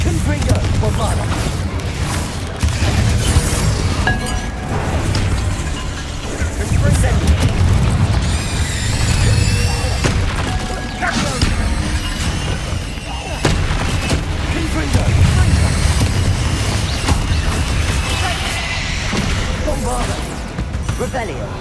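Repeated blasting spell explosions in the Hogwarts Legacy video game, loud booming crashes and bursts one after another over about twenty seconds, with a voice speaking between them.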